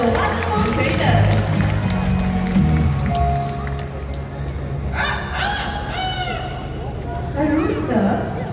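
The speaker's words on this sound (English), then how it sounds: "Did you hear that? A rooster in the park?" A rooster crows twice at a bird park during a school field trip, a mid-distance call rising over steady crowd chatter and children's voices, with the second crow near the end.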